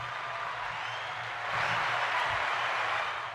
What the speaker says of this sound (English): Let's get some applause for Iron Giant